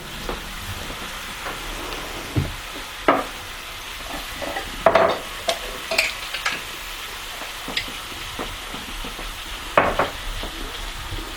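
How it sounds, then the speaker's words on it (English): Food fries in oil in a pan on a wood cookstove, a soft steady sizzle with scattered crackles and pops, plus occasional clicks and light utensil taps nearby. "I'm just going to watch those and let them fry up."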